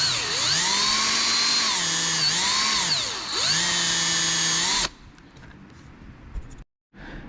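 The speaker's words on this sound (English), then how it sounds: "I take a Q-tip and I'll chuck it up in the drill" A power drill whirs loudly with a Q-tip chucked in it, cleaning the needle seat of a carburetor on a Kohler 16.5 hp engine from a Craftsman lawn mower. The pitch sags and recovers under load for about five seconds, then stops, leaving quiet handling noise.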